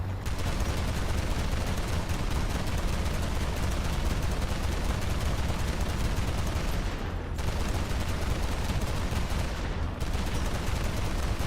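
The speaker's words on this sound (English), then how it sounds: "Come back down here so I can shoot at you." Dense, sustained gunfire in the tank, plane and boat combat game War Thunder, loud and nearly unbroken for the whole stretch, with two brief dips in the roar and no voices.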